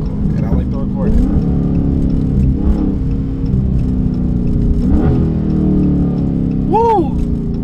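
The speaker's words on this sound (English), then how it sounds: "them shifts hit different at night" Dodge Scat Pack 392 accelerating hard at night, engine roaring steadily with rising revs and audible gear shifts, heard from inside the car with someone talking over it.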